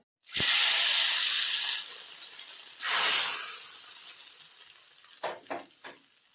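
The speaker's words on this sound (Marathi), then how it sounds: "छान पैकी तडका बसतो या पद्धतीने" Hot oil tempering with red chillies and asafoetida is poured onto dal khichdi. It gives a loud sudden hissing sizzle that fades, then a second burst, followed by three quick clinks of a spoon or pan.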